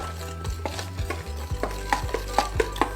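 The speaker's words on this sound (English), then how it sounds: "So you just wanna stir this up" A utensil stirring seasoned flour for a fried chicken coating, with a series of soft scraping strokes and light taps against the bowl, quickening toward the end, close and without talk.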